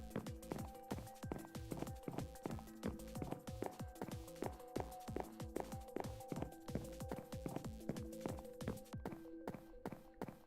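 Hooves of a horse in a video game clip-clopping in a quick, even rhythm, a steady run of sharp hollow taps with a faint tonal game hum beneath, fairly quiet and with no speech over it.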